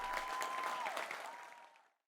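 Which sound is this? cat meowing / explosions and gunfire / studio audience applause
studio audience applause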